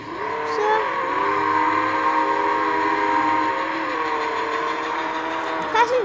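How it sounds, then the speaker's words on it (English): A passenger train passes with sustained, wavering horn-like tones over a rolling mechanical whir, fairly loud and continuous, with a brief clatter near the end. "Passenger train."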